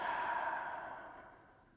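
A single slow, deep breath during a guided relaxation exercise, a soft airy exhale that fades away gradually, close and quiet, with no talking.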